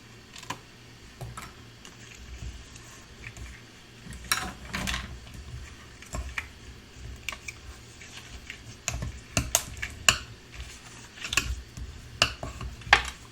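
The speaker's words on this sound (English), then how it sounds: "So I'm going to notch this little corner right here." Paper pages being notched at one corner, giving scattered crisp snips and clicks in an uneven rhythm, close and moderately quiet over soft background rustle, with no talking.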